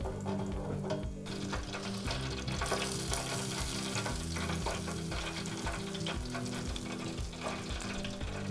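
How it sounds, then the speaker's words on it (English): A gluten-free Scotch egg deep fries in hot oil, giving a dense, steady bubbling crackle throughout, with no voices. "we're gently going to put the Scotch egg into the oil"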